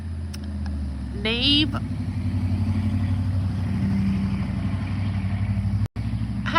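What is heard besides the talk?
loud truck passing on the road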